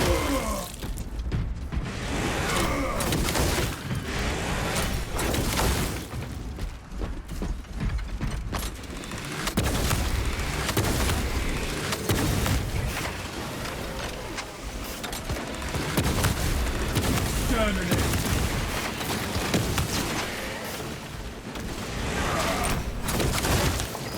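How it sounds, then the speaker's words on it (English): Dense, sustained bursts of plasma gun fire in Space Marine, a double-plasma tactical build, rattling on and off almost without pause over a busy background of game noise. "let me shoot this guy"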